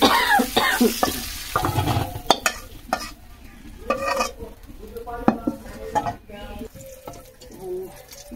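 Boiled potatoes go into a frying pan where fried egg was just cooked, giving clattering utensil knocks, scrapes and sizzling bursts at an irregular rhythm, close and fairly loud, with occasional voices in the background.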